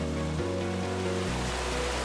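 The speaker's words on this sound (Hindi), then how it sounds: "पानी की आवाज" Water rushes steadily along a stream in the Himachal Pradesh hills near Renuka Ji, a dense, unbroken wash with a low vehicle hum underneath.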